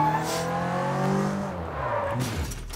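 A car driven in the video game Sleeping Dogs, its engine note rising and falling steadily for a few seconds with a tire-like squeal near the end, close and alone without talk.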